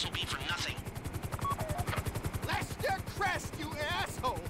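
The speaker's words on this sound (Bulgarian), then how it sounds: "То добре, че сме с хеликоптер, ако не бяхме по-бавно." Helicopter in GTA V flying with a steady, pulsing rotor chop throughout, loud and close, with a voice talking over it.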